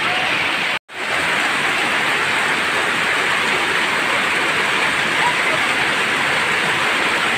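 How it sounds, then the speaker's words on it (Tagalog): Heavy rain falls steadily on a rural farm area, a dense, loud, unbroken hiss that fills the whole stretch apart from one brief dropout near the start. "Malakas talaga ng ulan."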